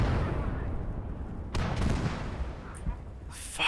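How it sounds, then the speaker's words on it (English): Artillery fire in the video game Call to Arms: Gates of Hell: rumbling low booms with a couple of sharper blasts and crackling impacts, spaced irregularly over a few seconds. "Fucking artillery is so ridiculously overpowered, my man."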